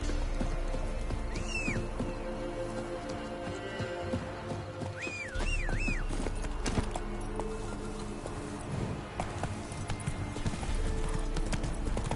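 Roach, the horse in the video game The Witcher, gallops with a fast, steady clip-clop of hooves. Bird calls sound briefly over the rhythm, along with a low ambient hum.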